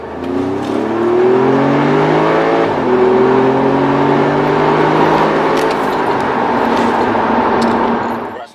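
A new Audi S3's engine droning from inside the cabin, steady and loud throughout, with harmonics climbing as it accelerates and a brief dip around a gear change.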